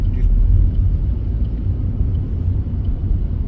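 A car coasts off the gas toward a junction on a driving test route in Hull, its engine and tyres giving a low, steady rumble from inside the cabin, gently easing in level.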